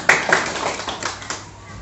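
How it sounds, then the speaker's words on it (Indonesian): A small classroom group claps for a teacher during a school training session, a short burst of scattered hand claps lasting under two seconds and fading out. "Tepuk tangan untuk Ibu."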